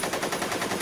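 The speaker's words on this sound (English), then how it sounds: "he shoots the doors and there's like 500 bullets in the gun" Rapid automatic gunfire rattles continuously in a watched shooter clip as a gunman shoots out doors, a loud, dense burst of evenly spaced shots with no talking.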